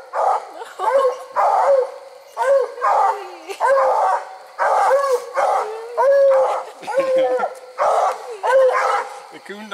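Two bluetick coonhounds bay during a night coon hunt, loud and close, giving a steady run of repeated drawn-out bawls and barks that overlap almost continuously.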